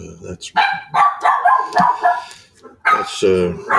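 Dogs barking repeatedly in the background while a person talks over them, the barks loud and close.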